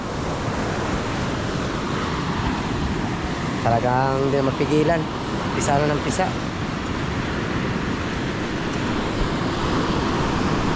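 Sea waves wash and surge steadily around a small fishing boat at sea, a broad continuous roar with wind, while someone speaks over it for a few seconds.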